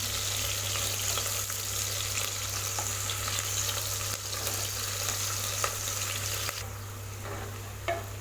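Large onions sauté in a pan for egg biryani cooked in a pressure cooker, making a continuous even sizzle over a steady low electrical hum. A few faint stirring scrapes come through and nobody speaks.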